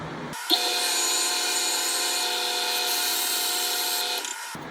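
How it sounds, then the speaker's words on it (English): A power tool sands the tapered ends of a part for a Meister F4U Corsair model aircraft build, a steady loud whine running for about four seconds with a brief bump as it starts. "So the ends I just sanded to the taper. Instead of cutting them, I just sanded it."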